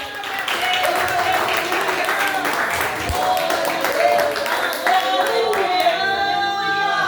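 A church congregation claps during an evangelical service, the applause running steadily beneath loud voices and cheering that carry over it the whole time.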